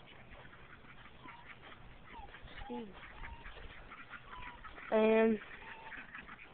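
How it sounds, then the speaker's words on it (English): Khaki Campbell ducks quack in a short loud burst of several calls near the end, above a quiet outdoor background where someone talks briefly. "by the noise, you might know what they are. The ducks."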